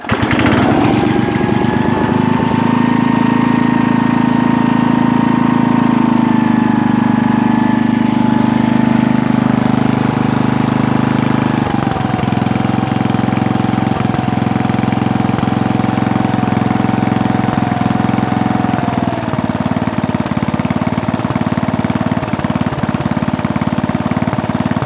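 A rare 1983 Briggs & Stratton 8hp Sno-Gard winter engine idles low, a loud, steady chugging drone with a faint shift in pitch midway, close up and continuous with no talk.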